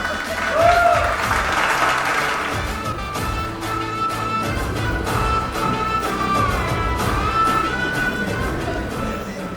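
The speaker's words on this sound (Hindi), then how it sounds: "किरण और अभिषेक के लिए तालियां।" Steady applause from a crowd at a sangeet night fills the whole stretch, dense and sustained clapping with a few faint voices mixed in.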